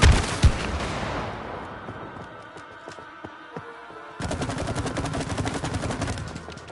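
In It Takes Two, rapid bursts of gunfire are aimed at larvae. The loud shooting at the start fades into scattered clicks and impacts, then another sustained stretch of rattling fire follows, with no speech.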